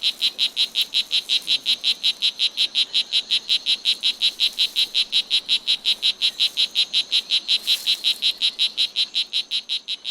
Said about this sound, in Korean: 수컷은 암컷의 관심을 끌기 위해 울음 주머니를 크게 부풀린다.